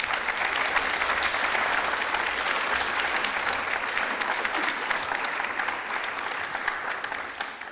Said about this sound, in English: you can give them a round of applause now